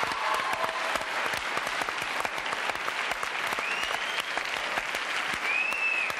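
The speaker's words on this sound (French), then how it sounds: "Applaudissements" Sustained applause from a large audience, dense clapping holding steady throughout at an even, fairly loud level.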